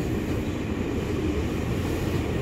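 A KRL commuter train rolls into Manggarai station, a continuous low rumble of wheels and carriages filling the platform, steady and moderately loud with no voices.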